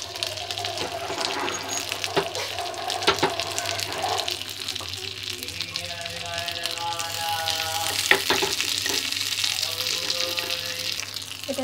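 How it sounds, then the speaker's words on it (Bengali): Cashews and raisins fry in hot ghee in a pan, giving a steady close sizzle with occasional stirring clinks throughout. "ঘিটা গরম হয়ে গেছে, এর মধ্যে দিয়ে দেবো কাজু বাদাম"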